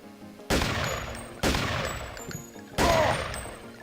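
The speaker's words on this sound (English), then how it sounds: "Explosive 10mm ammo, let's have a look." Explosive 10mm rounds fired in Deus Ex: three heavy, booming blasts about a second apart, each sharp onset followed by a rumbling decay, loud and close with no talking.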